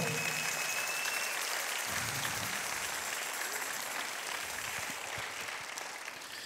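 Church congregation clapping together during a sermon, a steady, dense wash of hands that runs the whole time, moderately loud and fading slightly toward the end, with no talking over it.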